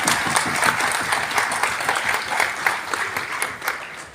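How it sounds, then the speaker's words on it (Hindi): Loud, lively applause from a crowd at a retirement program welcomes a guest, with dense clapping that swells and dips slightly throughout. "आप सभी जोरदार तालियों से स्वागत करें"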